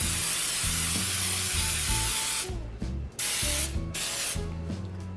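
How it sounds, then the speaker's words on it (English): Baker's Joy baking spray hisses from an aerosol can into a loaf pan in a couple of long, close bursts, broken by brief pauses, over low background music. "so now I'm just going to spray this pan down with some Baker's Joy so it'll easily release"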